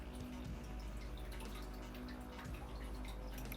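Liquid aquarium treatment dosed drop by drop into tank water, faint sparse drips over a constant loud filter or pump rush.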